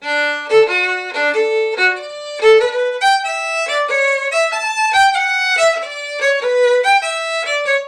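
Hornpipe melody played in a strict, literal dotted rhythm on a bright sustained melodic instrument, a clear solo line of long-short note pairs moving steadily up and down, close and alone with no talking.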